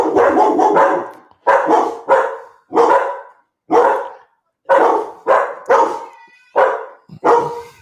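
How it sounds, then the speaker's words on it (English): Dogs bark close and loud in a quick series of about a dozen sharp barks, some clustered in rapid pairs and triplets, separated by short silent gaps. "Puppies."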